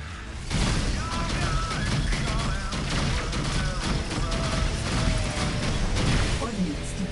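Blaster fire from the Rebel Galaxy space combat game crackles in rapid bursts through a dense, loud mix of explosions and engine drone, with a voice talking over the action.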